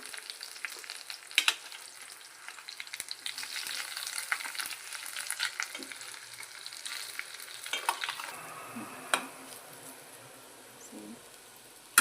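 Sabudana khichdi with coriander and crushed peanuts is stirred in a pan, giving a soft, continuous sizzle with scattered scraping and clinking of the spoon, close and fairly quiet, with no talk.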